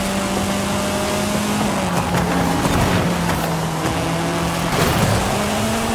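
Mazda MX-5 RF engine in Forza Horizon 5, a steady, loud droning tone accelerating continuously with shifting pitch and a brief gear-change dip, heard alone without talk.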